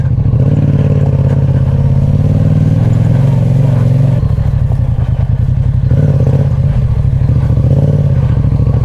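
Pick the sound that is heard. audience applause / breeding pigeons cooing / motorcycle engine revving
motorcycle engine revving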